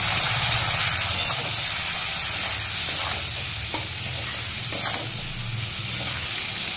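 Potatoes fry in a pan as cumin and coriander powder are stirred in, giving a steady close sizzle and hiss broken by scraping strokes from the stirring.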